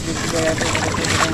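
Water gushes out of an opened PVC pipe at a traditional fishing spot, making a steady, close, rushing pour that fills the moment without pause.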